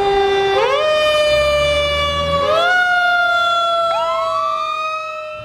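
Loud emergency vehicle siren wailing in rising and falling sweeps, close by, sounding continuously with no talk over it.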